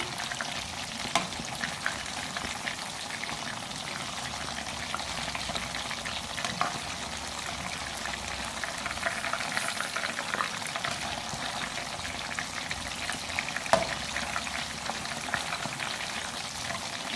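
Spice-coated chicken pieces fry in hot oil as they are turned one by one, a dense, even sizzle throughout with occasional faint clinks.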